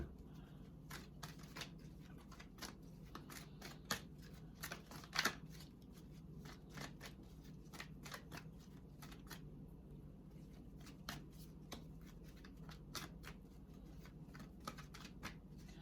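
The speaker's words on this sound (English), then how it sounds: "let's pull some energy oracle cards for you" Energy oracle cards are shuffled close by in a rapid, even run of soft crisp riffles and flicks with a few louder snaps, with no talking over them.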